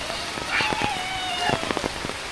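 Heavy rain pouring down in a flooded village, a dense, steady hiss of drops striking surfaces with scattered louder splats and patters, fairly close and unbroken.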